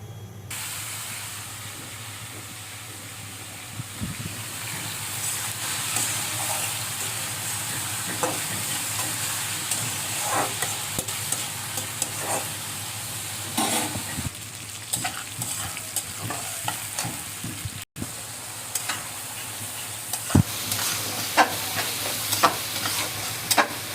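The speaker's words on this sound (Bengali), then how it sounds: "আর এখানে করলা ভাজিটা বসিয়ে দিয়েছি" Bitter gourd slices crackle and sizzle steadily in a hot pan, with faint scraping and stirring clicks scattered through the long, even frying noise and no voices.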